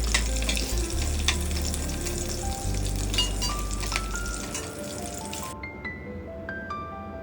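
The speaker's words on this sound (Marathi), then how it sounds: "जिरं, मोहरी, कढीपत्ता, मिरची आणि लसूण टाकायचा. व्यवस्थित परतून घ्यायचं." Cumin, mustard seeds, curry leaves, chili and garlic sautéing in hot oil give a steady close sizzle that fades out near the end, where a few soft tonal notes ring alone.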